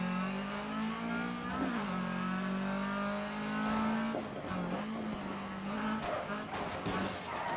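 Front-wheel drive rallycross car engine in the video game Dirt Rally, droning steadily and shifting pitch as it accelerates and lifts, with tyre scrub and a brief skid, with other cars close by.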